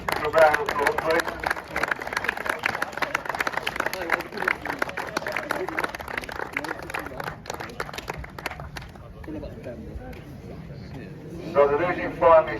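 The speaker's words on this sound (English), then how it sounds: "Good round of applause, please." A crowd applauds at a Sunday League cup final between Digby Hotel FC and SW Rangers, a dense burst of clapping with some cheering that fades into quieter murmur before a brief swell at the end.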